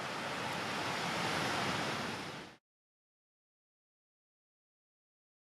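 Ocean waves wash onto the shore in a steady, broad roar with wind noise for about two and a half seconds, then stop abruptly into silence.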